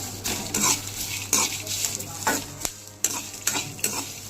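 Garlic and cumin seeds frying in a pan for a peanut and curry-leaf spice powder, a steady close sizzle broken by several sharp scrapes and clinks of a spoon stirring against the metal pan.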